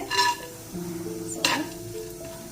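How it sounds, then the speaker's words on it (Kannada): Dry fruits frying in melted ghee for carrot halwa, a close steady sizzle with a spoon stirring and scraping the pan, plus a sharper clink near the middle. "ಈ ಡ್ರೈ ಫ್ರೂಟ್ಸ್ನ ಮೈಲ್ಡಾಗಿ ಫ್ರೈ ಮಾಡಿಕೊಂಡು"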